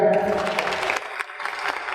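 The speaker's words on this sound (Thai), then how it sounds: "ขอเสียงปรบมือด้วยนะครับ" An audience at an art presentation ceremony with a government minister claps briefly, a scattered, moderately quiet round of applause with a voice faintly over it.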